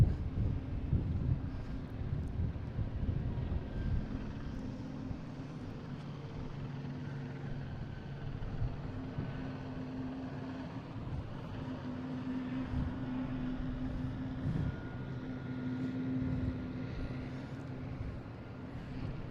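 An airliner takes off from Boston Logan International Airport bound for Bogota, its distant engine roar a steady low rumble with wind noise buffeting the microphone.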